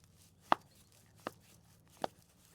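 Three sharp, separate snips ring out as pruners cut through a Montauk daisy stem to take a cutting, each one a close, crisp click against a quiet background.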